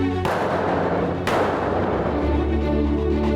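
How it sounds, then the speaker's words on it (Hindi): A grenade explosion in a tactical police exercise, with two heavy booms in quick succession followed by a rumbling decay. "ये आखिर वाले ने जो ग्रेनेड मारा है इसको चेक करो।"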